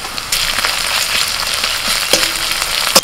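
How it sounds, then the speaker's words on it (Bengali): Chopped onion, green chili and ginger-garlic paste sizzle in mustard oil in a kadai, a steady broadband hiss with occasional sharp pops and a brief clink near the end, no voices. "তেলের মধ্যে দিচ্ছি পেঁয়াজ কুচি"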